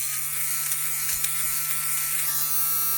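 A cheap electric epilator bought from Temu buzzes steadily up close, a constant mechanical whirr with faint ratcheting clicks and no talk over it.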